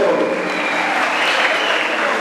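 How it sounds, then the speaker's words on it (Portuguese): A church congregation in Luanda, Angola bursts into loud, dense applause during a worship service, a continuous roar of many hands clapping close and strong throughout. "Palmas ao Senhor Jesus Cristo."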